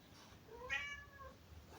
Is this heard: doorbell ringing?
no